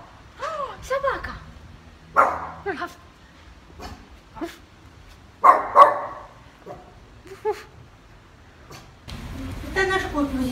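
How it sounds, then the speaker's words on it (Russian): A dog barks several times in short, irregular bursts, close by in an Odessa courtyard, with some faint voices and rustling between the barks. "Собака!"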